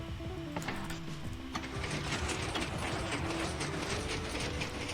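Minecraft piston-powered flying machine moving, a steady close clatter of repeated mechanical piston clicks and thumps running continuously with no talk.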